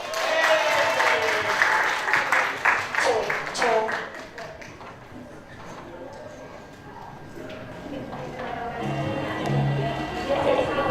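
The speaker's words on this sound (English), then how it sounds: "Please give a warm round of applause for class 5A." Lively audience applause for a school class drama performance fills the first few seconds, then fades as a voice begins speaking over the quieter hall.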